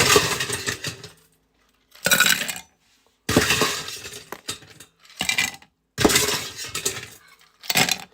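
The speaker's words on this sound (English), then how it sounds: "get your mule cups, whatever you like to use for your mule cups. Get some ice in there." Ice dropped into mule cups clatters loudly in several separate bursts, with clinks and rattles separated by brief silences.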